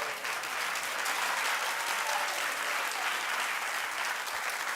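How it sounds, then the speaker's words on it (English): A studio audience at a talk show applauds, a continuous wash of clapping heard at moderate loudness without a break. "They clapped because she clapped."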